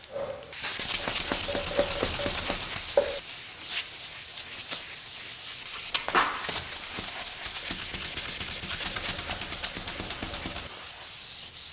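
Hand sanding a car headlight lens with 800 and 1200 grit sandpaper: a steady, close, continuous abrasive rubbing and hissing that runs throughout, with a brief break near the middle and no talking.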